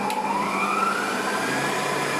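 An electric mixer switched on again to whip egg white with butter and sugar, a steady close whirring drone with a rising whine as the motor speeds up, continuous and moderately loud with no talking.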